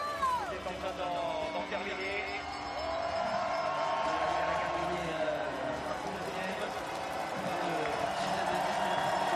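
Spectators applaud and cheer steadily as the last biathlete crosses the finish line of a women's pursuit race at Annecy Le Grand Bornand. The sound is a continuous crowd wash over an outdoor stadium, with a commentator talking over it throughout.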